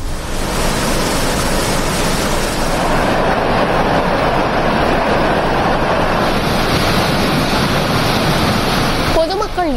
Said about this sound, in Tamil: மாவட்டம் உத்தமபாளையம் சுற்றுவட்டார பகுதிகளில் பெய்த மழையால் முல்லை பெரியாற்றில் பெருக்கெடுத்துள்ள தண்ணீர்.